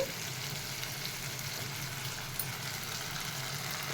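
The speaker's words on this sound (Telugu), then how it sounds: "మనం ఇప్పుడు చికెన్ వేసుకుందాం" Chicken frying in a pan for a potato chicken curry, a steady, dense sizzle that holds evenly throughout, close and fairly loud with no voices.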